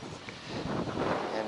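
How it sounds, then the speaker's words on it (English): Wind gusts buffet the microphone in a rough, rumbling rush at Joshua Tree, swelling louder toward the end, with a person speaking over it. "Wow, it's windy"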